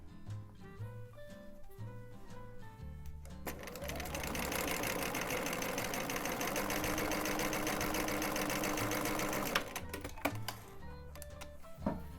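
A sewing machine stitches a narrow zigzag seam on knit fabric, running steadily for about six seconds in a dense mechanical whir, with quieter start-stop stitching and clicks before and after.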